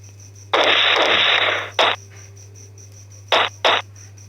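Synthetic gunfire effects from a mobile first-person shooter game built in FPS Maker: a long sustained burst of rapid fire, then a single short shot and a quick pair, loud over a constant low hum.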